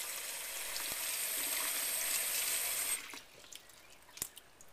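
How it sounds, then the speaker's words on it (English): Water splashing and sloshing in a bowl as strawberries are rinsed in a small home kitchen, a steady running, splashy wash for about three seconds that then drops to quieter drips and a few small clinks. "I usually fill a bowl, splash them around a bit, and pour off water"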